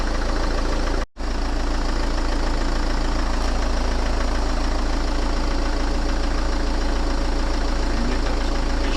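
Citroën CX Pallas 2.5 diesel engine running steadily just after a hard start, with a loud, continuous low diesel drone and knocking idle throughout, cut by one very brief dropout near the start.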